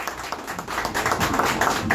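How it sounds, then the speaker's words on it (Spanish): Audience clapping at a mariachi birthday party performance, a steady close wash of many hands that swells a little over two seconds. "fuerte el aplauso para todos ustedes"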